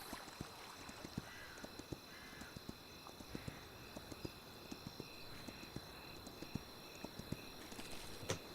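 Horse hooves clip-clop in the Kingdom Two Crowns video game, a steady run of sharp, evenly spaced taps over a soft ambient hum with faint tonal game music, quiet and unbroken by talk.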